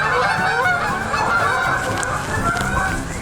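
Several geese honk together, nearby and loud, in a dense overlapping chorus of harsh calls lasting a few seconds.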